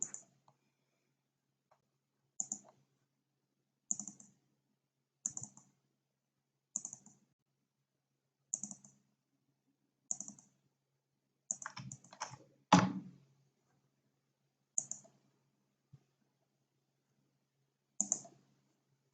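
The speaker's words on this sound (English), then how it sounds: "I'm clicking on the publish." Computer mouse buttons click at a desk in sharp, close single and paired taps spaced a second or two apart, with a short cluster of faster clicks and a louder thump near the middle, and no talking.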